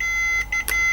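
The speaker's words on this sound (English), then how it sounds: "your multimeter will beep" A multimeter set to continuity gives short electronic beeps as its probes touch across an isolation switch, a couple of brief tones over a steady background whine.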